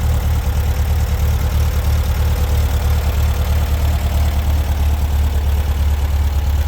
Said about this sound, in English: It was a successful engine startup. Air-cooled engine, horizontally opposed.